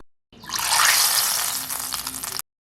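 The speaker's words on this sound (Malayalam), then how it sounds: "ഇനി നമുക്കിത് തയ്യാറാക്കി വെച്ചിരിക്കുന്ന ചട്നിയിലേക്ക് ഒഴിച്ചു കൊടുക്കാം" Hot oil tempering of dried chillies and curry leaves poured into onion chutney, a sudden loud sizzling hiss that bursts up, holds for about two seconds and then cuts off, close up and alone.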